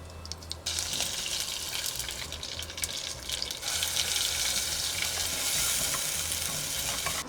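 Hot oil tempering with cumin, mustard seeds and curry leaves, a loud continuous sizzle that swells sharply as more goes into the pan, with faint clatter and no talking.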